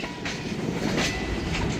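Train with locomotives passing near Iron Mountain in roughly 100 °F heat, a steady close rumble of railcars with rhythmic clickety-clack from the wheels and faint squealing accents, continuous and fairly loud.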